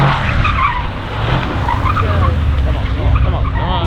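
Mercedes-AMG E63S or C63S drifting at an AMG drift school, tires squealing loudly and continuously over a roaring engine, with voices faintly audible underneath.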